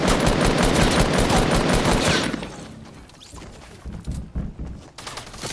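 Loud bursts of rapid automatic gunfire from a Fortnite firefight, a close, continuous volley for about two seconds that breaks off into quieter scattered clatter and thuds.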